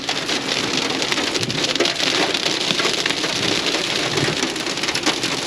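Hail falls heavily in a storm among dunes, a dense, loud, continuous patter of ice striking surfaces with no pauses and no talking.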